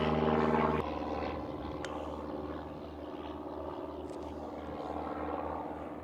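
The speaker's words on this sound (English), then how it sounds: "it's pretty loud with the airplanes" A steady propeller aircraft drone hangs over Las Positas Golf Course, loud at first and then easing into a continuous hum with faint wind.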